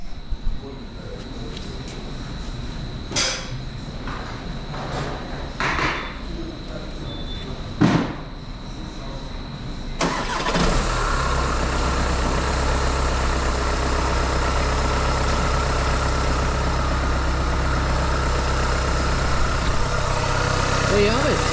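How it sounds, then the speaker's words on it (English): A 2019 Volkswagen Arteon 2.0 TDI diesel cranks and fires after a timing belt replacement, then settles into a steady, loud, low idle; a few knocks and clicks come before the start. "all we need to do is get on the key and give it a big start, Rooney."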